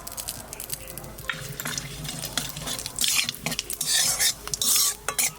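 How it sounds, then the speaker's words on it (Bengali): Mustard seeds dropped into hot oil, sizzling and popping as they are stirred, with scraping utensil clinks against the pan and loud bursts of crackling in the second half. "তেলের পর দিয়ে দেবো সর্ষে,"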